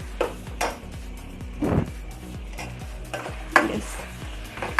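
Chicken pieces stirred in a tikka masala pan over a flame, with soft sizzling under repeated scraping and clinks of a utensil against the pan, fairly quiet and close, no talking.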